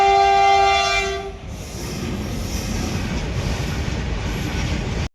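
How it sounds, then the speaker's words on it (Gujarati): A train pulls into a station with a loud, sustained horn blast at the start, then a steady heavy rumble of wagons rolling close by until it cuts off. "આપણે ટ્રેન આવી ગઈ છે"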